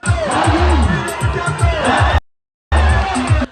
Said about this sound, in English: he was welcomed by a large crowd and the field was filled to capacity